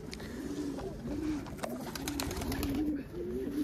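A young indigo Andalusian pigeon coos in a snowy outdoor loft, a steady run of soft repeated low coos at close range with no talking.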